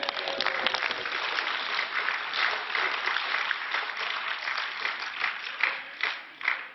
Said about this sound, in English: we missed the very end of Mr. Farage's last speech because you were all cheering